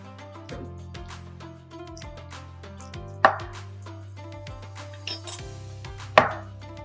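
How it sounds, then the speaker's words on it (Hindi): A knife cuts tomatoes into thin slices on a board in a kitchen making karela and onion, giving a series of crisp, spaced chops close up, with a couple of sharper knocks standing out over a low steady hum. "मां इन में शामिल कंदमि टमाटा ऐं टमाटनि खे कंदासीं बारीक स्लाइस।"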